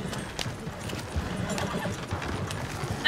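Horses gallop in Red Dead Redemption 2, a continuous rapid clatter of hooves on ground over a steady rumble of outdoor game ambience, with faint clicks and no clear talking.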